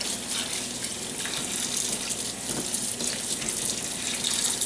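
Cold tap water runs steadily into a bowl of tomatoes being washed, a continuous close splashing hiss that holds level throughout.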